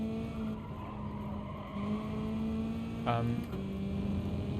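Tires squeal and skid under hard braking on a race car at the Red Bull Ring in GT Sport, a short, loud screech over steady engine drone, with a voice talking alongside.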